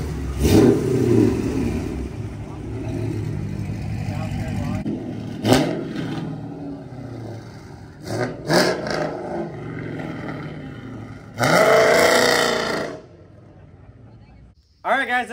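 A blue Dodge Charger or Challenger at a rod run revs hard in bursts during a burnout, with loud roaring surges and a tire-screech-like squeal near the end, amid crowd chatter and talking.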